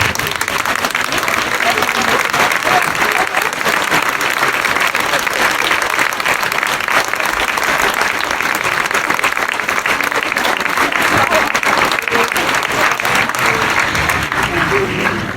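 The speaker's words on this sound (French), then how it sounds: "je vais vous demander de vous lever et d'applaudir toute l'équipe qui a organisé cette" A conference audience in Toulouse on their feet applauding the organizing team, dense sustained clapping filling the room for the whole stretch, with voices faintly underneath.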